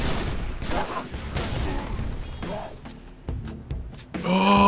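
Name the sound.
battle rifle gunfire in Halo 3 video game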